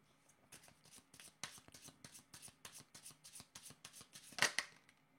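Playing cards are shuffled by hand in a quick series of soft riffling bursts, close and quiet, with no one speaking.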